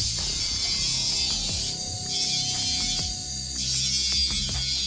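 Small conical coarse dental diastone grinding a ceramic or zirconia surface at 10,000 RPM, a steady high-pitched whine with rough buzzing and irregular scraping contact, close and continuous without talk.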